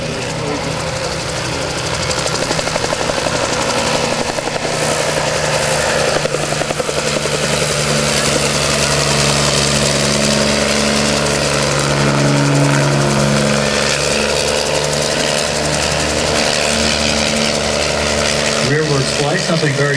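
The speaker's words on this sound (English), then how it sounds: "Powered by a single reciprocating engine that burns gasoline, very similar to your car engine." A Bell 47 helicopter with a single reciprocating gasoline engine flies a demonstration at an air show, its loud, steady engine drone and rotor thrum continuing throughout, with the pitch shifting as it maneuvers, and a voice talking over it.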